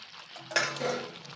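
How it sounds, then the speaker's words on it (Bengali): Carrots, fried potatoes and cauliflower stirred and sautéed in a pan, a soft scrape and clatter of the spatula with a burst of louder rattling as vegetables drop in, then a low steady sizzle, close by. "এখন দিয়ে দিচ্ছে গাজর আর আলু ভাজাগুলো, এগুলো কষাবে, তারপর ফুলকপিটা দিয়ে"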